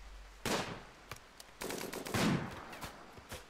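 Colonists firing guns in RimWorld: several separate bursts of shots at irregular intervals, a short volley near the start and a longer cluster of cracks in the middle, moderately loud with no talk.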